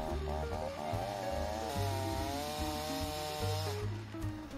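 A chainsaw cuts a fallen tree into firewood rounds for a wood stove, its engine loud and close, the pitch rising and falling as the chain bites into the log.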